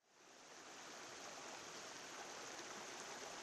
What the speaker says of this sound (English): We've reached the river.